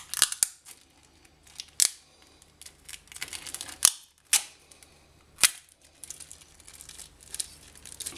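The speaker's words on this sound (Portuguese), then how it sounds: "Vou retirar então a fita, desta forma a bateria já fica mais solta." Adhesive tape is peeled and torn off a salvaged LiPo battery pack in a sequence of sharp, close crackling rips separated by brief pauses, with no talking.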